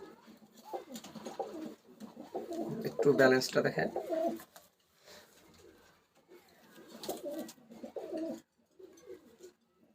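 Imported Teddy pigeons coo in a loft, a soft burst of low throaty calls swelling in the middle and returning in shorter bouts, with someone talking over them.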